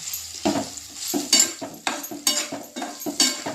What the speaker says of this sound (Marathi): त्यात अळूचा उंडा चिरलेला आपण टाकूया आणि तो परतवून घ्यायचा